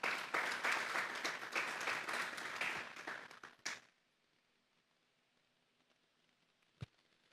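A congregation at a Sunday church service claps loudly for the Lord, a thick burst of applause that fades and stops after about four seconds, leaving near silence broken by one faint knock.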